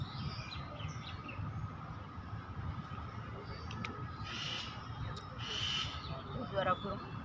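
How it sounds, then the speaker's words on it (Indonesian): Faint bird calls and chirps ring out over a low, rumbling park background with distant murmuring voices. "Suara burung loh."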